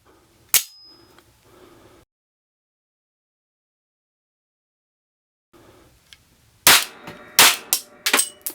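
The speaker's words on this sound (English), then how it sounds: "we're going to fire off 2 rounds in semi and then 8 rounds in full auto" EKOL Jackal 9mm P.A.K. blank pistol fired semi-automatically, one sharp loud crack, then a long silence before a quick cluster of further sharp reports near the end, close and loud.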